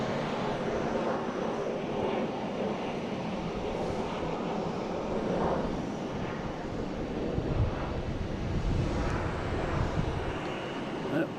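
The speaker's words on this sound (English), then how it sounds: "We have American Airlines taking off here rather quickly, heading to Harrisburg, flight 4715 and E175." An American Airlines Embraer E175 jet takes off at Boston Logan, its engine roar rising and swelling at a distance, mixed with gusty wind buffeting the microphone throughout.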